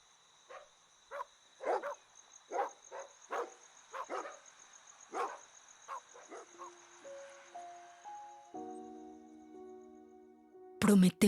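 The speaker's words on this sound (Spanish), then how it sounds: "los ladridos aumentaron" Dogs bark in a string of sharp, evenly spaced yelps. A series of sustained rising tones follows, then a loud burst at the end.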